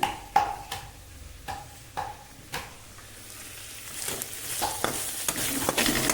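Radish greens fry in a pan with a soft, steady sizzle, punctuated by several sharp clinks of a utensil against the pan as they are stirred, growing louder near the end.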